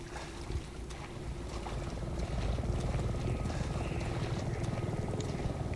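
A helicopter in Resident Evil 7 flies in, heard as a steady low rotor rumble mixed with windy noise that grows slightly louder over a few seconds.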